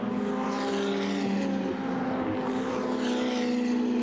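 Ferrari 488 race cars in the Ferrari Challenge Europe Trofeo Pirelli race at Budapest, heard as a sustained, droning engine roar with a steady pitch that rises and falls slightly as the cars run on circuit.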